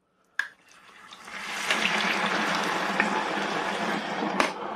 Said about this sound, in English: That max fill line it's recommended is way too high, because that is bubbling over.